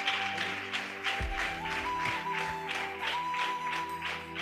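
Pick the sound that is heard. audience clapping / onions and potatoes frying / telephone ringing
audience clapping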